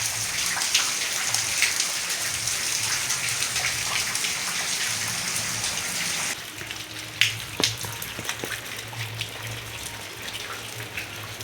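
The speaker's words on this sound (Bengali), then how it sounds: "আজ আবার হঠাৎ করে বৃষ্টি শুরু হয়ে গেল।" Steady rain falls nearby in a dense, even hiss with scattered louder drips and taps; a low hum runs underneath, and the texture shifts midway as drops hit a different surface.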